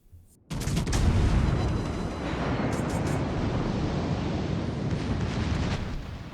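A sudden loud boom of ship guns firing in a World of Warships: Legends naval battle, followed by a long rumbling roar that slowly fades, with faint distant reports later.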